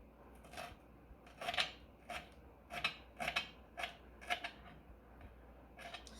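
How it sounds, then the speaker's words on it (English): Sharp knife chopping fresh parsley on a cutting board, a quiet, close series of about ten crisp, irregularly spaced strokes. "Still chopping up my parsley."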